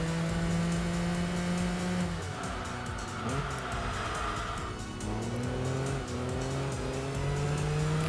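Racing car in the driving game Enthusia takes a run of corners, its engine droning loud and steady as pitch falls and climbs again with the gear changes, and tires hiss throughout.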